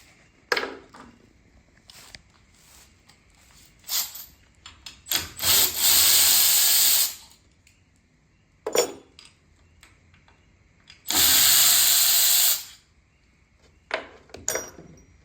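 Ratcheting wrench work on the 10mm valve cover bolts of a Briggs & Stratton big block engine, with two long bursts of ratcheting and several short metallic clicks and taps between them, close and loud, with no talking.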